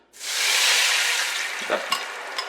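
Curry being added to warm oil in a pot over low heat sets off a loud, steady sizzle that flares up quickly and holds, with a few soft stirring scrapes toward the end.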